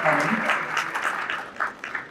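A room of guests applauds for a representative at a small business awards reception, a brief burst of clapping with voices talking and cheering over it.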